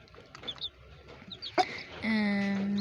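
Mother hen with her two-day-old chicks: soft scattered clucks and faint peeps at first, then a sudden sharp call and a sustained loud tonal squawk near the end, close by.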